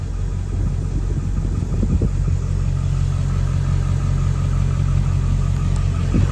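A 2001 Ford Excursion XLT with a 7.3L Powerstroke diesel engine idles steadily, a loud, close, low rumbling drone that holds even and constant with no talk over it.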